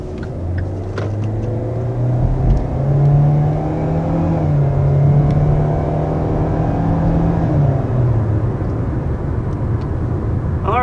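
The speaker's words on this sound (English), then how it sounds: "that was our first acceleration here in the 2-liter Seltos" A 2021 Kia Seltos S with a 2-liter engine accelerating, heard from inside the cabin as a loud engine drone rising in pitch, shifting, then climbing again before easing off, with no talking.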